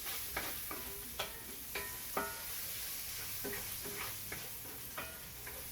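Bacon cooking in a pan, a soft, quiet sizzle broken by irregular light taps and scrapes of a utensil stirring, heard up close with no talking.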